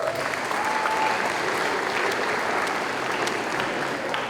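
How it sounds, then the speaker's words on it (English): Sustained audience applause at a high school athletic award ceremony, steady and fairly loud clapping from a crowd filling the whole clip with little talk. "Please hold your applause until the end."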